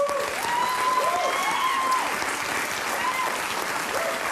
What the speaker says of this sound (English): They're clapping. They're fucking clapping for it.